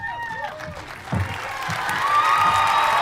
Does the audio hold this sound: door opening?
no